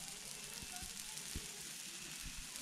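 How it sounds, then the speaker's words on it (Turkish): Peppers sizzle as they are roasted alongside tomatoes on an outdoor cooking fire, giving a faint, steady crackling hiss with occasional small pops and no talk. "Ben de bir taraftan biberleri kızartıyorum."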